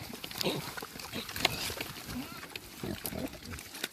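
Low, irregular grunting and snuffling from farm pigs nearby in autumn, with scattered rustling and outdoor noise, fairly quiet.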